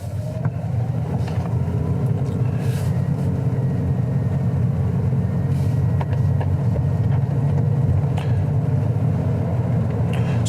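A car moves off and drives through the rain, giving a steady close engine and road rumble with a constant hiss of wet tyres and rain, and no talking.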